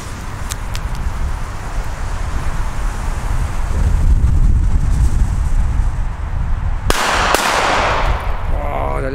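Old-school A-class firecrackers go off as two sharp, loud bangs close together near the end, after a long stretch of steady outdoor wind noise.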